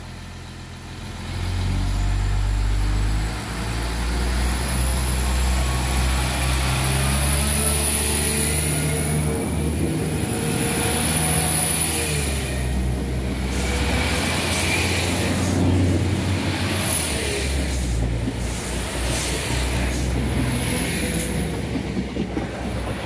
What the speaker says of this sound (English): There goes 415 to Derry Londonderry.